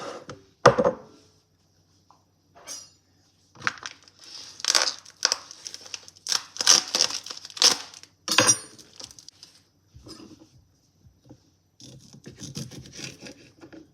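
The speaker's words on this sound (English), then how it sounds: "Now we have our Conecuh sausage. This is some good tasting sausage. I love it. So we're going to cut this up" A knife cuts Conecuh smoked sausage into small bite-size pieces, giving a sparse run of close, crisp slicing and scraping sounds with short quiet gaps between cuts and no talking.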